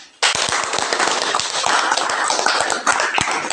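A room full of discussion-group participants claps together, with dense, sharp, overlapping hand claps that start abruptly, stay loud and continuous for over three seconds, then taper slightly.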